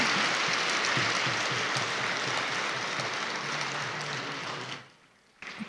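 An audience at an honouring ceremony at Shantivan claps in a dense, sustained burst of applause that carries on for several seconds, then drops away abruptly to near silence.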